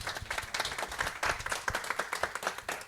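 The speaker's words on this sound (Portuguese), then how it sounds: "com o nosso aplauso, né, gente?" A modest audience claps for two panel speakers at an environmental education event, individual claps standing out in a quick, uneven patter, fairly quiet and sparse rather than a full roar.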